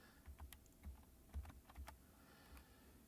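Keys on a computer keyboard are typed in a quiet, irregular sequence of distinct taps, heard faintly with no other sound.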